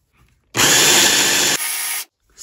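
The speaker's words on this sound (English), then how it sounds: "blend the chickpeas into a smooth paste" A food processor runs loud and close while blending chickpeas into hummus, a steady whirring roar lasting about a second and a half that shifts pitch before cutting off, heard alone.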